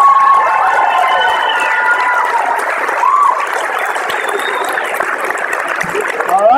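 A live audience at an Ignite Phoenix slideshow karaoke event breaks into steady applause and cheering, a dense, continuous crowd roar of clapping that holds throughout at fairly close range.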